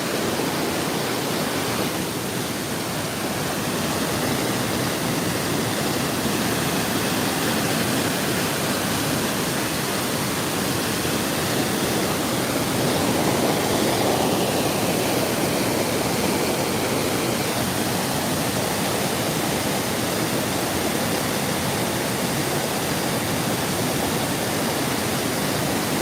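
A waterfall roars continuously, a dense, steady rush of falling water that stays loud and unbroken throughout.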